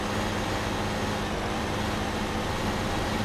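A steady, droning truck engine rumbles continuously, loud and unbroken, with a broad noisy wash over it.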